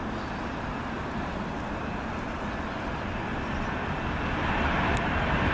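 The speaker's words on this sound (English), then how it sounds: "Up next, United Airlines Star Alliance 777 livery." A United Airlines Boeing 777 in Star Alliance livery at Heathrow Airport produces a steady, broad jet engine roar that swells slightly louder toward the end, with no talk.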